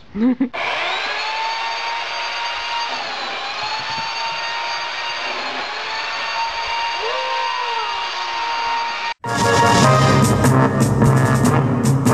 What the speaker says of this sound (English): I'm trimming a tree, but it's still pretty badass